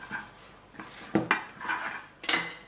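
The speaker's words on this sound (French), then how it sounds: "à l'aide d'une maryse, vous ramenez toujours le fromage au fond du plat" Silicone spatula scraping a cheese mixture around a baking dish, several short scrapes and knocks against the dish at close range, with no talking.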